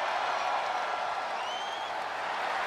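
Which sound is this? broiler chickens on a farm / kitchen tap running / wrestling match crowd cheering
wrestling match crowd cheering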